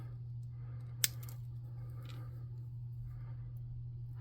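Scissors snip pieces for a handmade tabletop miniature of an Umber Hulk: one crisp, close cut stands out, followed by a couple of softer snips over a quiet, humming room.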